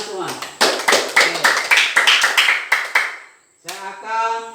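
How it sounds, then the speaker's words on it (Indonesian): Classroom of junior high school students clapping together in a quick rhythmic burst of about a dozen sharp claps, followed by a brief pause and then a voice speaking. "Oke, tepuk tangan semua"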